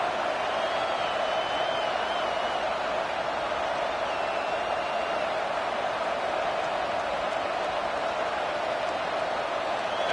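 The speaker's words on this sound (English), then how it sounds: "how nice is it to have the home crowd going absolutely bananas?" A home stadium crowd roars in an NCAA college football video game, with Oregon on the field. The noise is a dense, steady wash of cheering that holds at the same level throughout, with no single shouts standing out.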